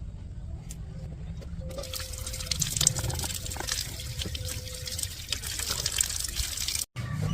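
Running water splashes and trickles steadily in a home kitchen while things are quickly rinsed before cooking chicken curry, a continuous wash of noise with faint background sounds.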